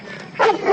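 A dog gives a short whimpering bark or yip, a single close, fairly loud burst after a quieter whine.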